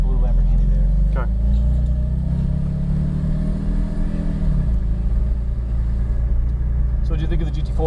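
A Porsche 718 Cayman GT4 at New Jersey Motorsports Park sends out a loud, steady low engine rumble that dips slightly partway through, heard close by and continuous throughout.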